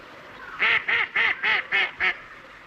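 A duck in a park quacks six times in an even, rhythmic series, each call nasal and clear, close and fairly loud over a quiet background with no talk.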